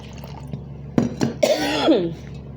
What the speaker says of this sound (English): all of a sudden I might have a forced cough